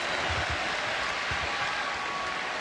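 Basketball crowd in an NBA video game cheering and applauding for Jordan, a steady broadband roar held at an even level throughout without pause.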